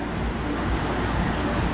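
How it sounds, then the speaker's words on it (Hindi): Fast floodwater rushing through city streets in Jaipur, Rajasthan during the monsoon, a dense, continuous roar of flowing water close by, steady and loud with no talk. "तेज़ बहाव पानी सड़कों पर बह रहा है जिससे गाड़ियों की रफ्तार रुक चुकी है।"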